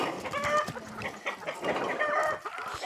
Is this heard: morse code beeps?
no